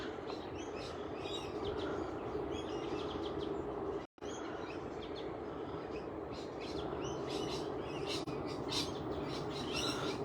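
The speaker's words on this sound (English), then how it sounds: "I'm hearing rainbow lorikeets dominating the bird noise, bird song." Dense chorus of screeching rainbow lorikeets and chirping small birds by a cabbage tree palm near Putty Beach, continuous and busy throughout, with a brief cut to silence partway through.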